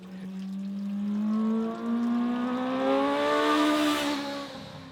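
A QJMotor SRK 921 naked motorcycle engine revs hard and climbs steadily through the rising pitch, with a brief dip like a quickshifter gear change, loud and close with no talk.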